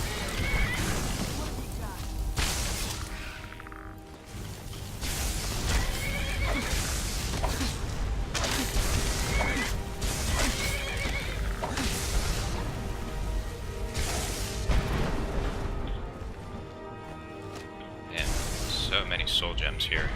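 A summoned horse in Skyrim whinnies and clops its hooves across a long stretch of game sound, with repeated neighs and hoof beats and a voice talking over much of it.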